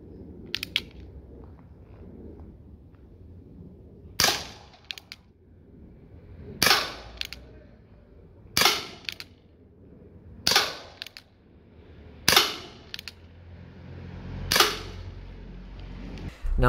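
A Colt Peacemaker BB pistol fires 4.5 mm steel BBs: about seven sharp, loud snapping shots spaced roughly two seconds apart, each with a short ringing tail over quiet room noise.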